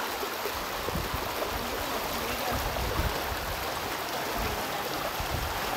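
Flood water runs steadily through a waterlogged colony street in Lingojiguda, a constant rushing, gurgling flow with no clear voices over it.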